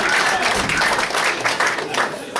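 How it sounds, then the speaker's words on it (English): Audience at a football supporters' trust player of the year awards night applauding, a dense steady patter of many hands with murmuring voices underneath. "so you can give them a round of applause"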